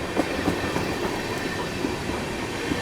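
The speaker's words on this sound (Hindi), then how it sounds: "ज़बरदस्त एक्सीलरेशन कर रही है भाई अपनी WG9" A train hauled by a WG9 electric locomotive pulls out of a station and picks up speed, wheels clattering over rail joints in a steady, loud rolling rhythm with no voices.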